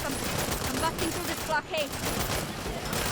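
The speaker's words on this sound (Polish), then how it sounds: "Ten Johnson to jest naprawdę potężny karabin, ale celność tego tego karabinu jest po prostu tragiczna, nie? On strzela tak naprawdę wszędzie." Rapid, steady bursts of Johnson rifle fire from a Saints Row game rattle continuously and close, overlapping someone talking throughout.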